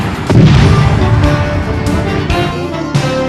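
Fireworks boom through a Nevada fireworks shop advert, dense and loud, blended with music across the whole few seconds.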